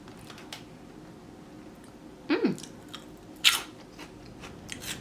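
Two short crunchy bites of Baby Kaki Mochi, salty and fluffy Japanese rice crackers, around the midpoint of a quiet stretch, followed by faint chewing.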